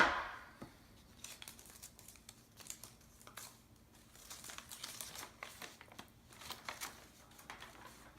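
Paper rustling and crinkling at close range as a cut paper snowflake is unfolded, a quiet series of irregular crisp crackles and soft snaps spread across several seconds with no talk.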